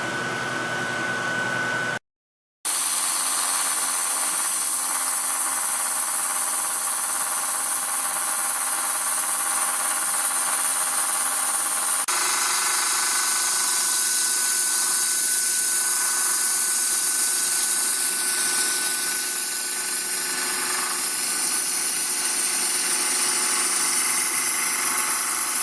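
Milling machine cutting 20 or 30 LPI checkering into the front strap of a Caspian 1911 pistol frame, a loud continuous high-pitched whine after a brief silence, with the tone shifting partway through as the cut engages.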